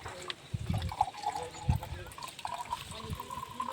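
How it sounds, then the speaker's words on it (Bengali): Fresh water poured into an oxygen humidifier bottle, a soft trickling splash over a few seconds, fairly faint, with a voice talking over it. "এই আমাদের ফ্রেশ ওয়াটার আছে, একটু ঢেলে নিচ্ছি"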